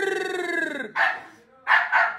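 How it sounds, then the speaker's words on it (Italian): A dog gives a drawn-out whining howl, then a few sharp barks close by, loud and separated by brief gaps. "È il cane del demonio!"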